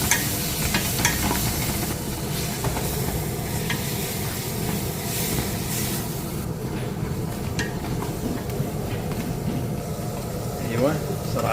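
A spiced tomato mixture with ginger, garlic and turmeric is stirred in a cooking pot for Kuwaiti fish machboos sauce, giving a dense, steady frying and scraping texture with faint voices in the background.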